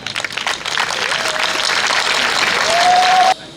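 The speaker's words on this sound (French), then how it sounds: "de se tenir debout juste quelques secondes pour applaudir Monsieur le maire" A crowd of mothers stands and applauds a mayor and his team at a community celebration in Cocody, with steady, dense clapping that builds slightly and then cuts off abruptly, as a faint whistle-like tone rises near the end.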